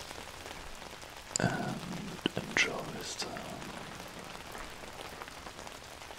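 Rain patters steadily on an umbrella held over a microphone in an ASMR rain-trigger session, with a few louder drop bursts early on and a soft, continuous hiss that fades lower; a quiet whispered voice speaks over it.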